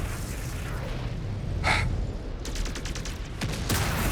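Heavy weapons fire from combat mechs in MechWarrior 5: Clans, with a dense rumbling barrage, a bright burst near the middle and a run of rapid, evenly spaced shots toward the end.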